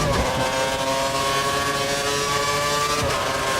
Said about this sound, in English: Oh god, the engine's tappets are going.